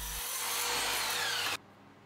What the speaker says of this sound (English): So now I can use the mitre saw to cut the pieces all to that length.